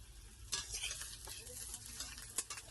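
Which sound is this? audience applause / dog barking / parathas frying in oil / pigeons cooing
parathas frying in oil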